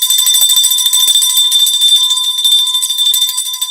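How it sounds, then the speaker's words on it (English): Bright, high bell rings continuously for several seconds, loud and close, with a sustained metallic shimmer and no voices over it. "You like that bell?"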